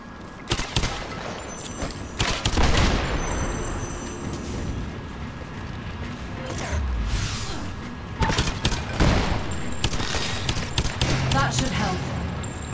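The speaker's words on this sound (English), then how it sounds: "The grenade launcher is badass." A grenade launcher fires in Lara Croft and the Temple of Osiris, giving several heavy booming blasts spaced across the stretch. They come over game noise and music, and voices talk in the background.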